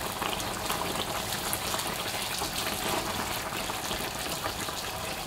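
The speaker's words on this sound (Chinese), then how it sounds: "炸制的过程中一定要中大火炸，防止把饼炸干炸硬。" Flour dough cake deep-frying in hot oil over medium-high heat, a dense, steady bubbling crackle of frying, close and continuous with no talk.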